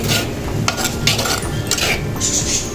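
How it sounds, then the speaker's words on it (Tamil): Banana flower being stirred as it fries in a pan, with close, repeated scraping and light clinking of a spoon against metal and no talking. "இப்போ இந்த வாழைப்பூ நல்லா கிண்டி விட்டுருவோம்"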